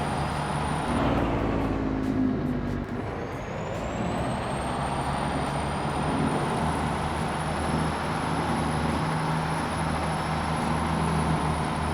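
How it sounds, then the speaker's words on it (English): 800 horsepower truck on the road, a loud constant engine drone with a rising high turbo whistle that climbs and holds, close and steady throughout. "I mean, listen to the turbo."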